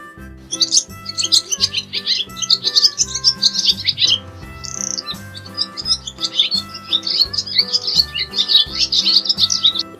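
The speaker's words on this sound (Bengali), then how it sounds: "ঘুঘু পাখি ডাকছে গাছে" A bird calls in a tree, a dove per the nursery rhyme, with bright repeated chirps and tweets over a steady rhythmic musical backing, fairly close and lively throughout.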